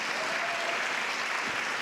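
An audience at a college commencement applauds, a dense, steady wash of clapping from a large crowd with no pauses.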